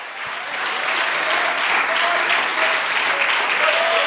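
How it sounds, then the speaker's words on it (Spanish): A church congregation breaks into loud, sustained applause, a dense steady wash of clapping that fills the room at close range with no pause. "Dele un fuerte aplauso al Señor."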